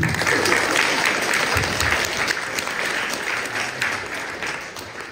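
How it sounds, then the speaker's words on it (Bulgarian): Audience at a school comedy performance applauds steadily for several seconds, a dense sustained wash of clapping that slowly eases in loudness. "Аплодисменти"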